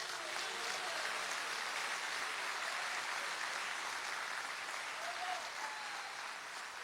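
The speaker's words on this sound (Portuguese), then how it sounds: "Pode aplaudir a Jesus." Church congregation applauds during a sermon, a fairly faint, even wash of many hands clapping together that holds steady and eases slightly at the close.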